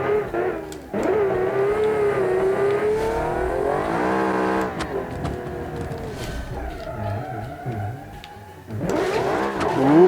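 Race car engine in the Automation video game, revving loudly with rising and falling pitch as the tires spin, sustained high-rpm whine through shifts and a final surge of acceleration, no talking.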